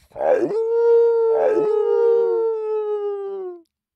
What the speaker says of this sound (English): This is the sound of a wolf.